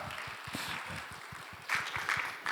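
A church congregation claps in a steady patter of many hands, moderately loud and growing a bit livelier toward the end.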